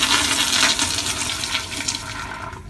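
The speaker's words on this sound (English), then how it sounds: "to flush the toilet, you actually have to go all the way under here" A toilet flushing in a dormitory bathroom: loud, close rushing water that swirls and slowly tapers off, heard alone.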